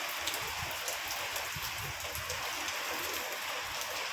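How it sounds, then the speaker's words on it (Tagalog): Heavy typhoon rain pours steadily, a dense continuous hiss of drops striking surfaces close by, with no voices. "Malakas ang ulan."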